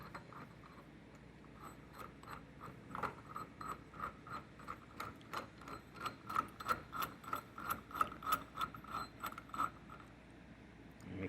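A center screw on a gear and bearing puller being turned against a shaft on a Toro gear case, giving a steady run of soft, regular ratcheting clicks and metallic scrapes up close that grow a little louder toward the end.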